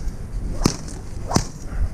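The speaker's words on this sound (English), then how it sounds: "Whip it over his head." Two sharp, close whip swishes cut through the air over a calm horse's head during groundwork, spaced about a second apart, with nothing else prominent.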